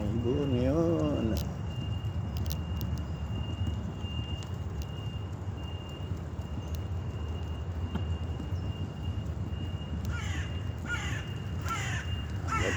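Crows cawing outdoors, a handful of harsh caws, one near the start and a quicker run of repeated caws toward the end, heard over a steady broad hiss of background noise.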